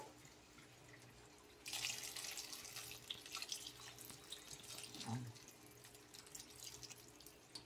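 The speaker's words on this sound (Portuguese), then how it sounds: "Colocam a água aqui, até mais ou menos cobrir eles aqui." Water poured from a tap into a cooking pot over figs being prepared for syrup, a steady splashing rush starting after a quiet moment and running continuously, close and fairly loud with no talk.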